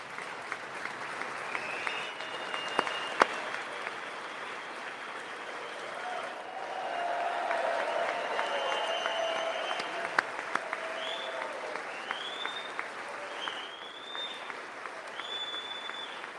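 Applause fills the chamber during a State of the Union address, a continuous, fairly distant crowd clapping with a few tonal sounds over it, steady throughout.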